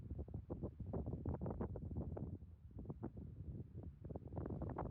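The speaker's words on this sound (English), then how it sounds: "it is really windy right now and it's cold" Steady wind buffeting the microphone in low, rumbling gusts in cold high-country mountains in the Pecos Wilderness, continuous throughout with no voices.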